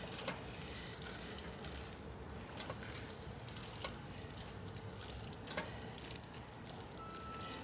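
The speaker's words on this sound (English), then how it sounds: "Now we're gonna add our linguine to this. We're gonna mix the linguine in." Linguine is tossed and mixed through a smooth alfredo sauce with prosciutto and sun-dried tomato in a pan, making a faint, steady wet stirring and light sizzle with a few soft clicks of a utensil.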